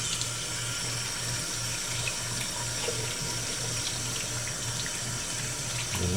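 Tap water runs steadily into a sink while a cleaned flounder is rinsed, a constant close hiss and splash with a low pump-like hum underneath.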